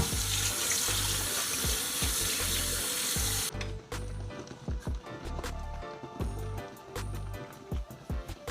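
A kitchen tap runs into a sink while callaloo greens are washed, with steady splashing at first, then the flow stops and wet handling and clattering sounds follow.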